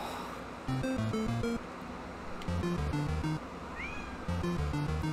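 A pet cat meows several times in a row, fairly close, each call a short tonal cry repeating in an uneven rhythm over steady background noise in a room during a Super Mario Maker 2 livestream.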